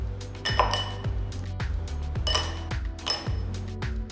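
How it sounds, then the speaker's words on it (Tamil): Ice cubes drop one after another into glasses of shikanjabeen, a lemonade drink, giving a steady series of hard clinks and rattles close by in a kitchen. "அடுத்து கொஞ்சம் ஐஸ் கியூப்ஸ் போடுங்க."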